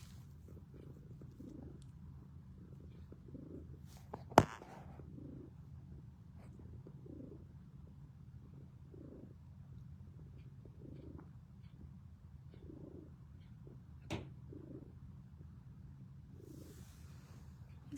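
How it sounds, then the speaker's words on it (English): A sickly, once-abandoned cat purring softly up close, a low continuous rumble with faint rhythmic pulses of breath, quiet throughout apart from two brief clicks. "You can hear him purr."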